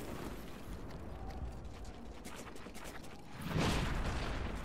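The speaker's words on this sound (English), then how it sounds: "Oh no, okay, grenade." A grenade goes off in a first-person shooter video game, a sudden broad, loud blast rising late in the clip after steady, busy game noise.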